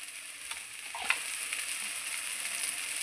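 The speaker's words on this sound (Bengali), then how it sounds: "খানমান পাতা বাটাটা আমি খুব সুন্দর করে তেলের উপরে কষিয়ে নেব" Kharkol (khanman) leaf paste frying in oil in a pan, a steady close sizzle with a brief clink of a utensil near the start, no voices.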